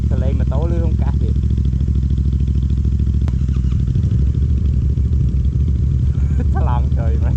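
A Yamaha MT-07 motorcycle engine drones steadily and loudly while riding, a continuous low rumble with constant wind and road noise, with a voice talking over it at moments.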